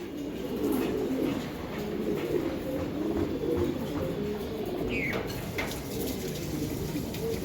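Pigeons coo steadily on a pigeon farm, a continuous low murmur of many birds close by, with a faint metallic clatter and a brief chirp near the end.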